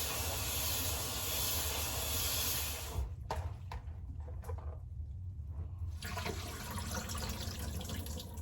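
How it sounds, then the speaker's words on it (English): Salted cabbage for vegan kimchi is rinsed under a running tap, with a steady rush of water that breaks off for a few seconds of clattering and splashing before the flow resumes. "it's time to drain all the liquid and start rinsing all of the salt off"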